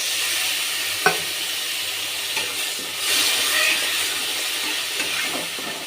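Masala frying in a pan with a bright, continuous sizzle while a spoon stirs it, a few soft scrapes and a clink rising above the hiss, close and steady.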